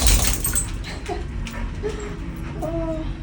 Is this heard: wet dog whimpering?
yes